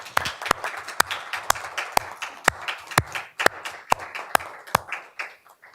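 Scattered applause at a school board meeting honoring local schools: a few people clapping, with sharp individual claps standing out in an uneven rhythm, fairly quiet in a large room, no speech.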